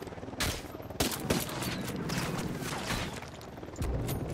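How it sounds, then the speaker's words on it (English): Dense automatic and burst gunfire from the video game Ghost Recon Wildlands, loud and continuous with sharp shots and heavier bangs near the start, end and around the one-second mark. "He's shooting us through the wall right now."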